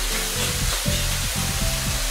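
Sea cucumber stir-fried in hot oil in a wok, giving a steady loud sizzle with regular scraping strokes of the spatula about twice a second throughout.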